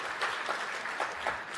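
An older audience at the Governors Awards gala applauds steadily with scattered cheers. The sound is continuous, quiet and distant, with no voices over it.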